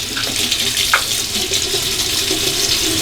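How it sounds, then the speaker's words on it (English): Cold tap water runs steadily into a sink as an alum block is passed under the stream, a close, constant splashing rush with a faint knock or two. "Now I'm just going to take my Shave Nation alum block, just glide this under the cold water."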